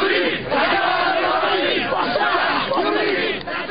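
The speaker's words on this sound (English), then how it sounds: "the crowd mushroomed, fiercely insisting Mubarak would not leave" A large crowd of pro-Mubarak protesters in Egypt, marching toward Liberation Square, shouts and chants loudly and continuously in overlapping roaring voices.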